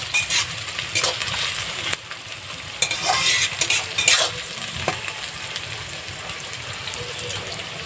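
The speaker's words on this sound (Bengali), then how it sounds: "পেঁয়াজটা ভাজা হোক" Chopped onions fry in a pan for duck curry on a clay stove, giving a steady, close hiss and sizzle with occasional scraping stirs and faint clinks.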